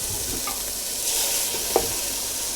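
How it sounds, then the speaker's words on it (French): Lamb marinated in Saint-James rum, wine, salt and pepper sears in a pot for a Martinique colombo. It gives a loud, steady close sizzle, with one brief clink of a utensil near the end. "Là, je fais blanchir la viande."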